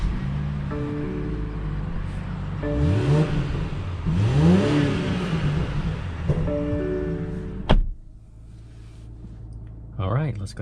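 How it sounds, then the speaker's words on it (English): A 2021 BMW X6 accelerating on a test drive, engine revving in rising sweeps and settling back, fairly close, with a voice talking over it and the engine dropping to a quieter hum near the end. "let's go ahead and take this 2021 BMW X6 on a test drive and see how it does"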